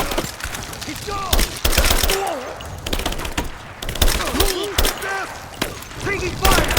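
Gunfire in Rise of the Tomb Raider hits hard and close: sharp shots and short bursts in uneven clusters, with voices shouting between and over the shooting.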